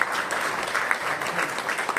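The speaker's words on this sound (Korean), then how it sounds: "박수로 경례 부탁드립니다" Audience applause at a Korean church inauguration thanksgiving service: dense, steady clapping from a seated crowd, held at an even level throughout, with no voices over it.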